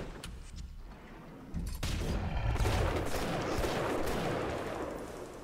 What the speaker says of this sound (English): Switching to shotgun.